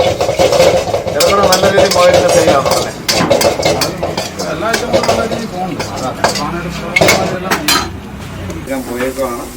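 Fried rabbit meat gets stirred in a pan, with busy scraping and clattering of a utensil against metal and a light sizzle underneath, while a voice talks over the cooking.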